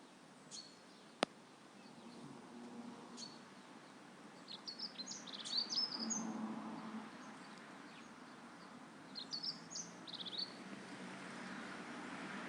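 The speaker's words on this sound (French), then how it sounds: "Les oiseaux qui chantent." Soft bird chirps and short song phrases, sparse at first and then clustering into a few brighter bursts, over a quiet outdoor background during a calm meditation setting.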